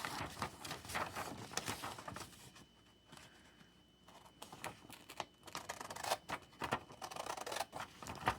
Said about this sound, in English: So we'll just cut these out.